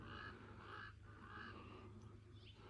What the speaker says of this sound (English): Those crows are back in there now.